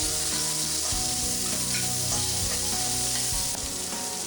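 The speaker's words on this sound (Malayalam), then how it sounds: "അരിഞ്ഞു വെച്ചിരിക്കുന്ന സവോള ഇടാം." Chopped onion and slit green chillies sizzle and fry steadily in a pan for a Kerala beetroot thoran, a dense continuous crackle with a few scraping stirs, close and loud with no talking.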